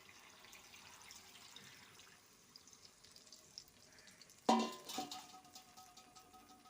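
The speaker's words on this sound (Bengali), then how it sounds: "জামবাটিটা ধুয়ে সেই জলটা একটুখানি দিয়ে দেবো" Water from a rinsed bowl is poured into a pan of chicken curry masala: quiet background, then a sudden close splash and gush that settles into a brief sizzle and fades.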